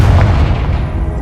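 The Confringo blasting spell from Hogwarts Legacy explodes in one loud, heavy, booming burst that rumbles on for about a second.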